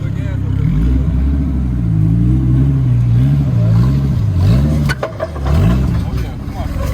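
A 2013 Dodge Viper SRT engine getting gas, a loud close engine with its pitch rising and falling through several revs, heavily overlapped by someone talking.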